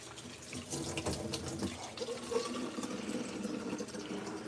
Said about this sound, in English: I'm just going to put some water in these babas